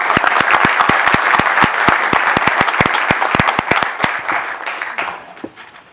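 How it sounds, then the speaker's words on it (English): A room full of attendees at a Goodwill annual meeting and awards celebration claps steadily, sharp close hand claps over a crowd wash that stays strong and then tapers off toward the end. "you can applaud for her"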